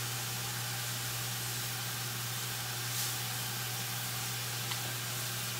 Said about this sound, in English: I'm going to deglaze it, get all that wonderful flavour off the bottom of the pan